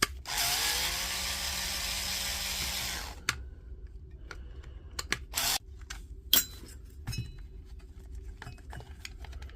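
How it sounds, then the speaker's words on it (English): Power drill backing screws out of a power tool battery pack during a repair, a steady close whir for about three seconds, then quiet handling clicks and small taps. "Get the screws out."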